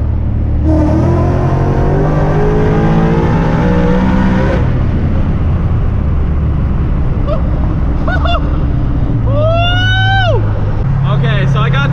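A sleeper Mustang accelerates hard on a highway, a loud engine drone climbing through rising, sweeping harmonics near the microphone, with a brief lull before further revving pulls and someone talking over the noise.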